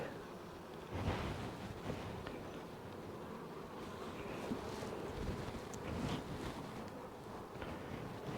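Honey bees buzz around a beehive and nuc boxes in a faint, steady hum with a few louder passes close by.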